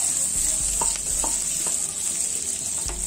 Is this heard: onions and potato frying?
yes